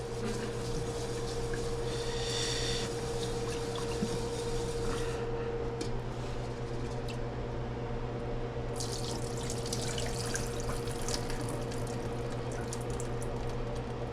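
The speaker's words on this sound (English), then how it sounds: "probably like 2 more rinses and we're good to go here on the rice" Water runs steadily from a faucet into a sink as rice is rinsed, a close, continuous splashing and trickling stream under a low steady hum, with no voices.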